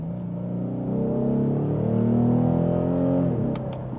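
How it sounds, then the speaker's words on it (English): A sports sedan in Sport S Plus mode drops a couple of gears and accelerates through a city, its engine note rising steadily in a smooth, loud rev before easing off, heard from inside the car. "we are in Sport S Plus mode. So we can drop a couple gears."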